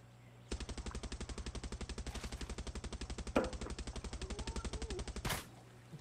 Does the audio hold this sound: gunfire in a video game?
yes